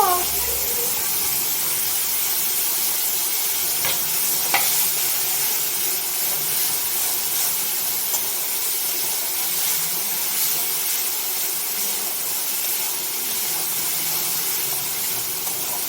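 Onions frying in a pan with whole garam masala make a continuous even hiss and sizzle, close and steady for the whole stretch, with a couple of faint knocks.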